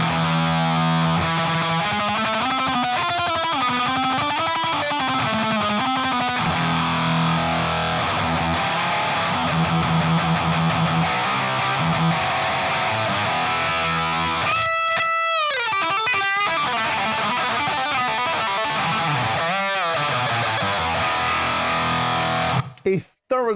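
Electric guitar played through an HM2 distortion pedal, a loud, heavily saturated and noisy tone with sustained chords and shifting notes, cutting off abruptly at the end.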